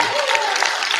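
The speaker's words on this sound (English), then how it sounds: "Y'all can clap better than that." A conference crowd applauds in a brief, dense wash of clapping, fairly loud, with a faint voice drifting over it.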